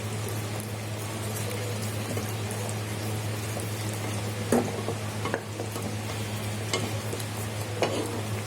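Schezwan chutney stirred in a pan over low gas, giving a soft continuous bubbling sizzle with occasional spoon scrapes and clicks against the pan, close and steady without talk.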